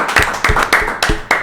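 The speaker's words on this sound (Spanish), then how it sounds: "Un aplauso para ella" Several sharp, spaced claps from a small audience at a Spanish-language podcast gathering, loud and close with a few distinct hand strikes in a short burst.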